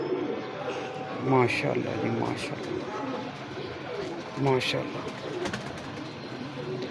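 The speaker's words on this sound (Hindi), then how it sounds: "सलारे कबूतर दिखा रहे हैं आपको।" Salare breed pigeons coo repeatedly in a loft, two clear rolling coos standing out over a steady background of birds, with people talking throughout.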